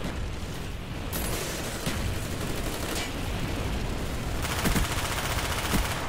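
Gunfire in the video game Black Ops 2: dense, loud bursts of automatic fire with rattling shots that continue throughout and swell near the end.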